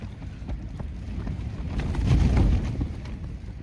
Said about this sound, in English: You can actually hear the gusts coming, and then all of a sudden they hit the tent and rock it